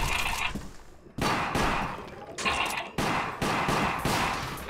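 Rapid bursts of stun bolt fire in Resident Evil: The Umbrella Chronicles, with several loud sharp volleys in quick succession over a dense game soundtrack.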